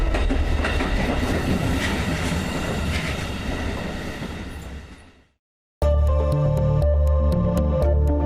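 Train at a railway station in the Baltic states, a loud rolling rumble with wheel clatter that fades out, then after a short silence a different loud tonal segment cuts in abruptly.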